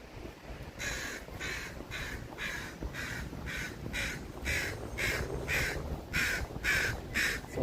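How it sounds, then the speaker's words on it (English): Loud crow cawing in Vancouver, about a dozen harsh, evenly spaced caws repeating steadily and close by over faint outdoor background hum. "Loud crow."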